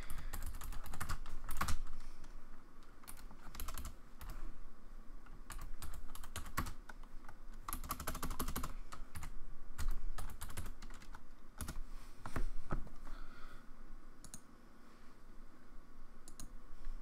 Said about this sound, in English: you're gonna hear a lot of keyboard clicking